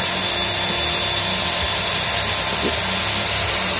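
A motorized wire brush spins continuously at close range, giving a loud, steady high-pitched whine with faint rumbling underneath throughout.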